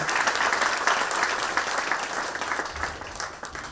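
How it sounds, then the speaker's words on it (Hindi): Loud, sustained applause from a large audience at a Shri Hari satsang event, dense clapping filling the whole stretch and easing slightly toward the end. "इस पल के लिए जोरदार तालियां तो बनती है"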